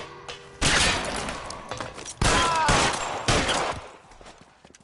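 Bursts of gunfire in the L.A. Noire video game: three loud, dense volleys of rapid shots separated by short pauses, each trailing off, with faint background game ambience between them.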